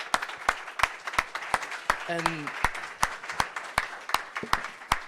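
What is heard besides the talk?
audience applause at a hackathon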